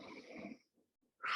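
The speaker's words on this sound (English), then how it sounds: "Take a deep breath." A slow, deep breath taken during a gentle yoga session by the beach: a soft, airy exhale, a brief pause, then the start of another audible breath close to the microphone.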